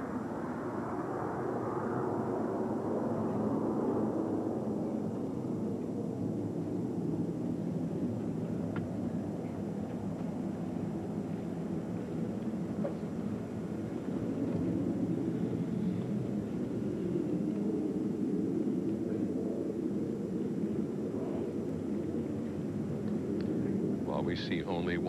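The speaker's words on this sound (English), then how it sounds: "flyover by fellow astronauts in their T-38s." T-38 jets fly over in a memorial flyover by astronauts after the Columbia shuttle disaster, heard as a sustained, distant rumbling roar that swells and fades beneath continuous talking.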